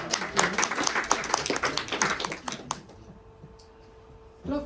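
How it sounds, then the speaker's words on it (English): An audience at a Toastmasters club meeting in Utrecht applauds a speaker, a brisk burst of many hands for nearly three seconds that stops abruptly into near silence before a brief noise returns at the end. "Please give a warm round of applause"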